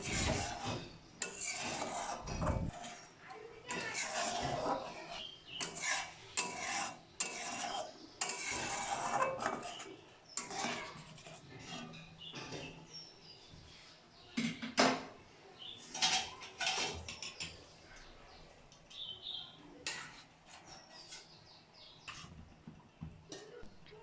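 A utensil scrapes and stirs Bengali doi potol curry in a metal pot, with rough rasping strokes and clinks coming in irregular bursts, close up and fairly busy throughout.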